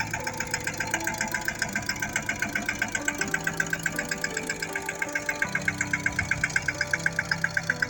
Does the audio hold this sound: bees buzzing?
no